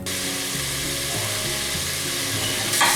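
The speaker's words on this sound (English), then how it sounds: "while the bacon's cooking" Bacon fries in a pan on medium heat for cowboy beans, crackling and popping in a steady close sizzle with a few stirring knocks and a brief louder burst at the end.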